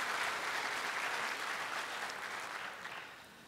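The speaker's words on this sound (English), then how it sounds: "please give them a warm round of applause as well" Warm applause from an audience fills the room, steady and dense, then gradually tapers off.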